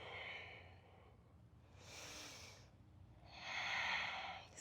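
Deep breathing held in warrior one pose during a yoga class, two or three soft, airy breaths, the last one fuller, heard close up and unaccompanied by speech.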